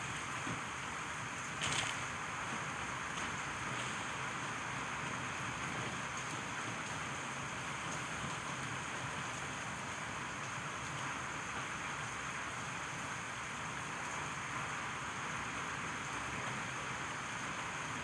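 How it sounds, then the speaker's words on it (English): Heavy rain falls in the video game Dragon's Dogma 2, a steady, dense hiss that holds unchanged throughout, with no voices over it. "It is raining most heavily."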